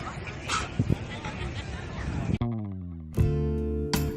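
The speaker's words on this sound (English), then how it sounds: "these dogs are going crazy and they're all friendly and nice" Several friendly, excited dogs yipping and barking in short bursts, with whimpers mixed in, close by over a busy background of chatter, ending with sharp high yelps.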